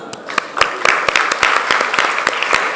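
Church congregation applauding during a Korean worship service, a dense spread of clapping from many hands with sharper nearby claps standing out, lasting a few seconds.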